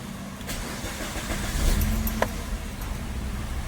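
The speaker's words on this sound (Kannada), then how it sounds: "ನೋಡಿ ಫ್ರೆಂಡ್, ಗಾಡಿ ಸ್ಟಾರ್ಟ್ ಮಾಡ್ತಾ ಇದ್ದೀನಿ ಇವಾಗ" A Maruti Swift Dzire VXI with a misfire fault and previously shorted spark plugs starts up, the engine catching into a steady, close mid-pitched hum with a brief sharp knock partway through.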